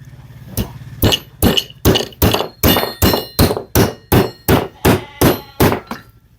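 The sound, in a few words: hammering a nail into wood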